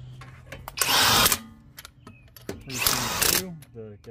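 A power tool bolting up wheels on a 2015 Subaru WRX during a coilover install: two loud, close bursts of whirring, rattling impact, each about half a second long, with people talking in between.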